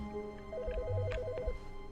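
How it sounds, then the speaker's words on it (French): In The Stanley Parable's office, a game telephone gives one short burst of fast warbling electronic ring, quiet and steady against a soft musical background with a few low knocks. "Oh, c'est le téléphone là."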